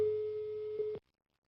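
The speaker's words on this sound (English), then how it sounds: "The customer's phone is ringing." Ringing tone of an outgoing telephone call in a computer telephony setup, a single steady electronic tone held for about a second before cutting off abruptly into silence.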